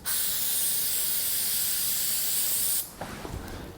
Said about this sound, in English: I'm gonna spray it on the towel.